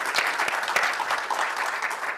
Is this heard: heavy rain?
no